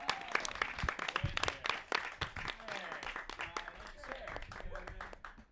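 A comedy club audience in Cambridge claps and cheers steadily to welcome comedian Sonny Dennis, dense close applause with a few whoops, while a host's voice speaks over it.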